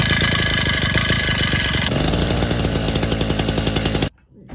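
A small two-stroke chainsaw engine, worn with piston slap, runs loud and close with a rough, rapid knocking rhythm, then cuts off abruptly near the end.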